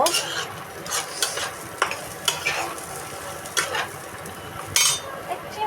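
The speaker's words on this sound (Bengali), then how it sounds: "এখন বাদাম ভর্তাটাকে তেলে নিব" Peanut paste frying in hot oil in a pan, a continuous loud sizzle with a spatula repeatedly scraping and clinking against the metal as it is stirred, alone without speech.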